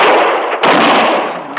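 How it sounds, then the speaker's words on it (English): A gunshot sound effect in a Western radio drama set in a saloon, heard as a loud, close, broadband blast with a brief dip before a second sustained burst, standing alone without speech. "Look, she's gone and shot Lonnie Pike"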